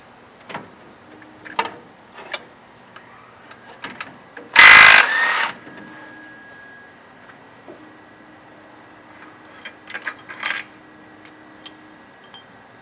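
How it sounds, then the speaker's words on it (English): A primary clutch bolt is taken off with a tool in a quiet workshop: one loud, harsh burst of under a second, with scattered ratchet-like clicks and taps before and after. "Next thing I want to do is remove the primary bolt."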